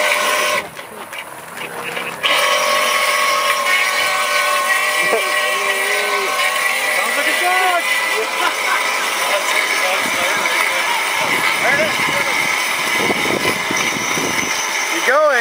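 Vehicle engine laboring through a mud pit at a TTC competition in Lethbridge, Alberta, a steady mid-pitched drone with occasional revs, close and continuous, with people talking over it.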